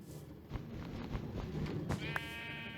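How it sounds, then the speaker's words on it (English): Sheep bleat in a Minecraft automatic wool farm, several wavering video-game bleats in quick succession over a faint steady background hum, moderately quiet. "I have my automatic wool farm. It has all 16 colors of sheep in it."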